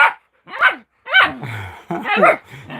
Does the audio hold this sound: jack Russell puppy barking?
yes